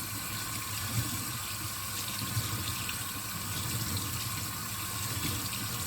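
Cold tap water runs into a sink in a steady, close, continuous rush while dyed socks are rinsed, with no pauses.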